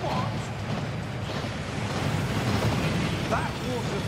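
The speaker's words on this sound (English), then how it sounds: "That waterfall washes away all enchantments." Inside the Gringotts vaults of the video game Hogwarts Legacy, a waterfall pours in a continuous broad roar that holds fairly loud and steady, with faint tonal sounds briefly surfacing in the mix.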